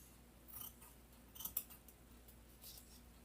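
Small scissors snipping through extra fabric material while making Valentine's fabric balls, a few quiet, brief cuts around the middle of an otherwise hushed moment.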